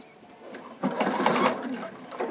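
A sewing machine backstitches bias binding in patchwork: a quiet start, then a loud, close burst of rapid mechanical whirring and stitching that eases off slightly.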